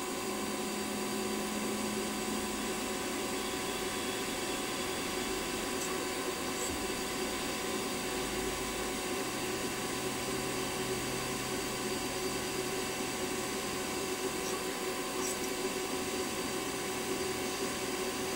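A steady, continuous mechanical whir of a drill boring through a metal eccentric strap for a Stuart Models S50 model engine, with a constant high-pitched whine and grinding texture throughout.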